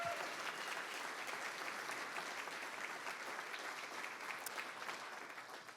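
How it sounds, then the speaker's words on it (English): An audience at a county State of the County event claps for the District Attorney, a sustained, fairly distant round of applause that holds steady and tapers slightly at the end. "Let's give him a round of applause."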